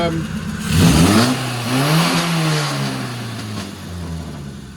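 Car engine with a straight-through exhaust revving with a raspy, throaty sound, a quick loud rise then a long falling drone, with a voice speaking underneath.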